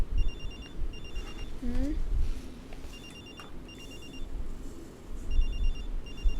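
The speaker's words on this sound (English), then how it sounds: "Are you not gonna pick up your phone?" A telephone rings in repeated short bursts, moderately faint beneath a room background, while a person murmurs briefly.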